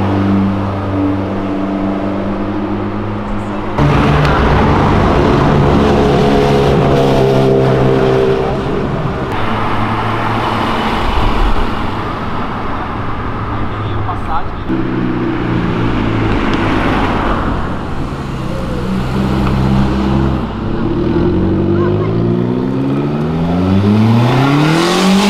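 A Ferrari and a Lamborghini on a city avenue, their engines revving loudly and repeatedly, pitch sweeping up through the gears in hard acceleration bursts that rise and fall for a long stretch.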